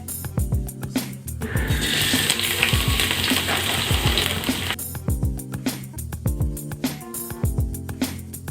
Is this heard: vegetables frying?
yes